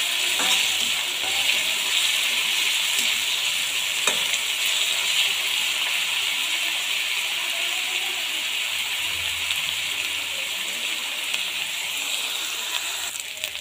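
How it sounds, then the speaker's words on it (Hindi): Onions fry and are stirred in a pan for dhaba-style egg curry, a steady loud sizzle with occasional scrapes and clinks of the spoon, heard alone throughout. "ऑनियन अच्छे से पकने लगा है। अभी हम इसे और पकाएंगे।"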